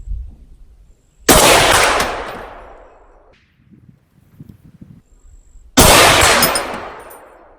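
Two loud rifle shots several seconds apart from an AK fitted with a Kestrel 7.62 suppressor, fired under an overhang at an outdoor range, each a sharp crack followed by a long rolling echo that dies away.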